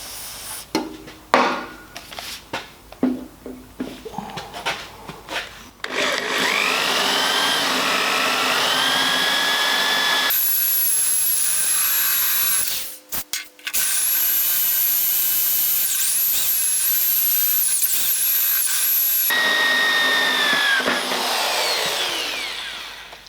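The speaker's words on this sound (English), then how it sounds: "we're going to drill the holes in the bench, and we're going to use a 20mm hole saw for those" A 20mm hole saw drilling holes in a bench, with a loud, steady whining grind held for long stretches, briefly interrupted, after some knocks and handling sounds at the start.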